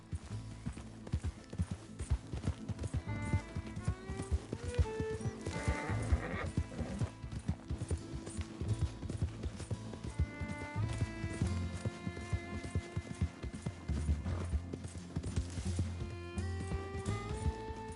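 A horse gallops in a video game, rapid clip-clop hoofbeats with a whinny heard over a constant layer of game music and effects.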